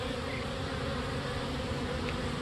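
A swarm of about 5000 honey bees building comb gives a steady, close, dense buzz that holds constant throughout with no voices.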